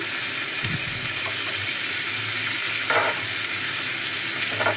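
Cauliflower fries in a pan with salt and turmeric, a steady hissing sizzle up close with a few louder bursts and light utensil clinks scattered through; no speech.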